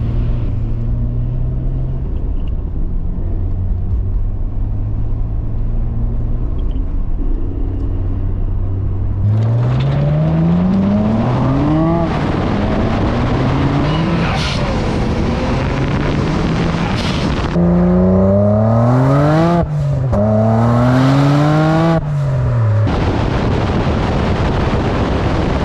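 Loud 500HP Nissan Skyline GTR pulling hard in third gear past trucks on a street, engine note climbing in repeated rising sweeps with gear-change dips, steady wind and road roar throughout, no talking.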